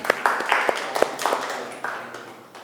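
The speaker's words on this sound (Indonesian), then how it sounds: "Ya, kita beri tepuk tangan." A classroom audience claps for a student group that has just finished presenting its discussion results at a university teaching session. A scattering of separate claps rings out close by, thinning and fading over a few seconds.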